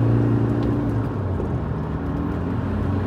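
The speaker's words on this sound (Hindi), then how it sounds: "Raving it back to 100 guys." Toyota Hilux 4x4 caravan engine revving on a rough, bumpy road, a steady loud low-pitched drone with sustained rumble and no clear breaks.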